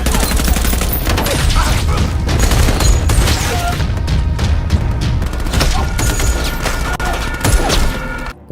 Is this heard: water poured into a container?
no